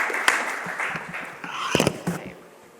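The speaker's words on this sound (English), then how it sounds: "A big round of applause as I welcome Shri N. Venu to the podium" Audience applause welcoming a speaker to the podium at the inauguration of a utility-week conference and exhibition, a moderate clatter of hand claps with a few louder bursts, fading toward the end.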